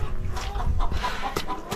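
Chickens in a coop cluck and squawk in a busy, overlapping chorus, close and fairly loud, with several sharp calls in quick succession.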